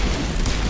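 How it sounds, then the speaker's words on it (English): Singularity biotic power exploding in the Mass Effect game, a loud, close, rumbling boom that fills the whole short moment with no voices. "Completely destroyed by singularity."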